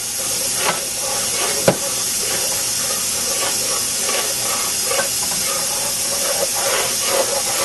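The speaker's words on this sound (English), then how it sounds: "the secret to roux is you just keep on stirring it until it browns" Roux sizzles in a pan while being stirred to brown it, heard as a loud, continuous hiss with one sharp knock near the start and faint scraping underneath.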